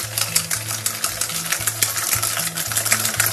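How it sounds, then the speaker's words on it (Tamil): A spoon or whisk mixes sugar into creamy vanilla cake batter in a bowl, making close, rhythmic scraping strokes that repeat steadily over a low, wavering background tone. "சுகர் வந்து போட்டுங்க, ஃபுல்லாகவே போட்டுருங்க. போட்டுட்டு நல்லா இந்த மாதிரி ஒரு இது வச்சு மிக்ஸ் பண்ணிடுங்க."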